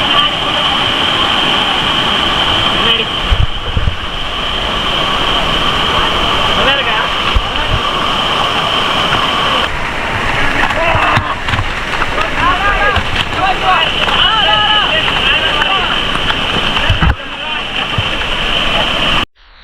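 Heavy water rushing over the Kodiveri dam waterfall, a loud, steady roar with constant spray and wind buffeting close to the microphone, with voices faintly mixed in at times.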